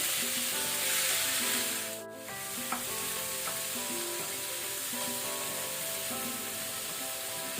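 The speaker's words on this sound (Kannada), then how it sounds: "ಈಗ ನಾನು 2 ಮೀಡಿಯಂ ಟೊಮೆಟೊ ಹಾಕೊಳ್ತೇನೆ. ಟೊಮೆಟೊ ಸಾಫ್ಟ್ ಆಗಬೇಕು." Two medium tomatoes fry with onions in a hot pan, giving a steady, loud sizzle throughout with a brief dip partway. Soft background music plays under the sizzle.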